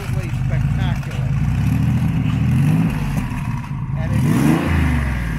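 A 530 hp Porsche 993 C4S Turbo with a Protosport-built motor revs in loud, rising and falling bursts over a rough idle, with someone talking over the engine.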